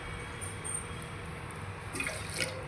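Water is poured into a pressure cooker already holding rice and boiled milk for sweet pongal, producing a soft, steady trickle that grows slightly splashier toward the end, close but fairly quiet.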